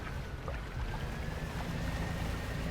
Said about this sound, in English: Please, try to keep your engine noise to a minimum.